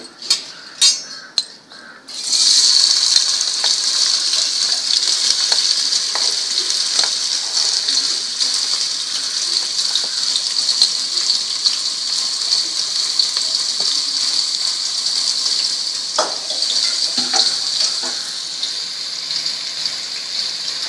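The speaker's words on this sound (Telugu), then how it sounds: "ముందుగా ఆయిల్ వేసి హీట్ చేసుకొని ఇందులో ఉల్లిపాయ ముక్కలు, పచ్చిమిరపకాయ ముక్కలు వేసుకోవాలండి." Onion and green chilli pieces dropped into heated oil for a Telugu country chicken curry, a few clatters first, then a loud, continuous close sizzle that holds steady and eases slightly near the end, with no talk.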